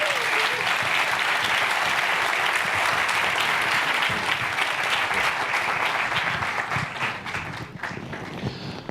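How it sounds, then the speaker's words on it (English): Audience applause for a speaker at the Ignite Buffalo finals, a business competition: dense, sustained clapping from a sizable crowd that fills the whole stretch and tapers slightly at the very end. "Let's give Eric a round of applause."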